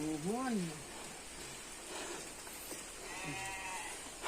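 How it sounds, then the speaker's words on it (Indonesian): Heavy rain falls in the countryside as a steady, soft hiss running throughout, while sheep bleat loudly nearby at the start and again later, and a few faint sounds rise above the rain. "Hujan ageng nih."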